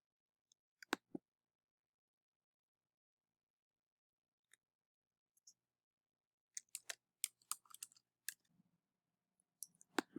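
A computer mouse clicks a few times, sparse at first and then in a quicker cluster of crisp, close clicks over near silence.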